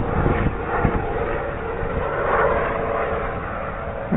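A Dynam FW-190 radio-controlled model warplane flies on a windy, overcast day, its small motor giving a steady droning whine with wind buffeting, heard continuously at moderate distance without talk.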